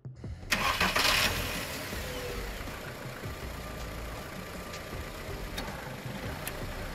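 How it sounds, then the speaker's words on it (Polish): A car engine cranks briefly on a LOKITHOR JA301 jump starter in winter, then catches and settles into a steady idle that continues evenly until the end. "Silnik zostanie uruchomiony bez problemu."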